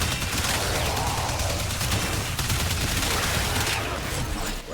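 Soma Prime rifle firing full auto in the video game Warframe, a loud continuous stream of rapid shots that runs almost the whole time before easing off at the end.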